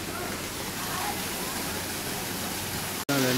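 A small waterfall, likened to water pouring from a pipe, rushes in a steady, close, broadband roar that holds constant throughout and breaks off briefly just before the end.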